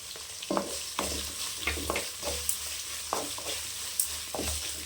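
Onions sautéing in a pan for semiya kichadi, a steady sizzle broken by repeated scraping stirs of a spoon against the pan, close and fairly loud, with no talking.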